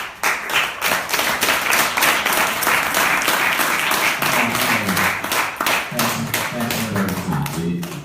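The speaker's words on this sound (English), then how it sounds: "Give her another applause, please" Lively audience applause and clapping for a professor at a talk on accessible music production software for the blind, loud and continuous for about eight seconds, with some voices and music emerging underneath toward the end.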